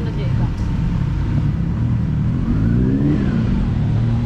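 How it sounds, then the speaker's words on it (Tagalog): Engines rev and accelerate loudly nearby, a continuous rising and falling roar with a pitch sweep near the middle, while people talk over the noise. "Laka ng mga motor nila oh."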